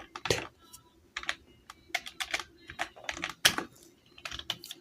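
Keys clack on a computer keyboard while a spreadsheet formula is entered in Excel, bursts of quick close taps with short pauses, fairly quiet, with no talking.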